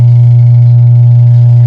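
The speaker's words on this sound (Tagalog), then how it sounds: "Hindi umikot ang makina." A washing machine motor hums loudly and steadily at close range without spinning, a constant low electrical drone with no change throughout.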